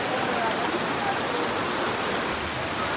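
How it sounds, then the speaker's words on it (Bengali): Heavy continuous rain falling outdoors, a dense unbroken hiss of drops on surfaces filling the whole stretch at steady loudness. "বৃষ্টি পড়েই যাচ্ছে একটানা"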